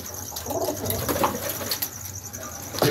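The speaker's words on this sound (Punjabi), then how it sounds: "ਇਹ ਮੇਨ ਹਰੀਆਂ ਅੱਖਾਂ ਦਾ ਕਬੂਤਰ ਜੀ।" A green-eyed pigeon coos in soft, repeated low calls, fairly faint against a light background of chirps and a brief flutter of wings.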